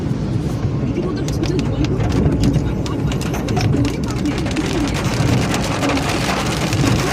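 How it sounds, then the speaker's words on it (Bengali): Heavy rain pours down over an open field in a steady, dense roar, with drops drumming on surfaces close by throughout. "আবার সেই জোরে হয়ে বৃষ্টিটা নামছে"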